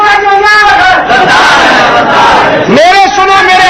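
Large crowd shouting slogans together at a religious rally in Bagra Village, Haripur Hazara, loud and close, with sustained massed voices swelling into a renewed chant near the end.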